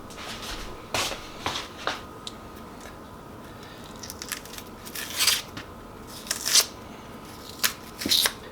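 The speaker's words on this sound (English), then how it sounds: "Let's chop those nasty bits off." A knife chops away the unwanted bits of vegetables for a homemade veggie soup, giving scattered crisp cuts and scraping taps on a board, some single and some in quick pairs, close and clear with no talking.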